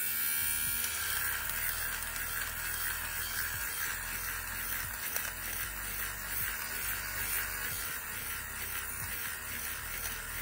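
An electric fabric shaver (anti-pill lint remover) runs over jogging pants and along a seam, a steady close high-pitched motor buzz with faint scratchy rubbing throughout, no talking.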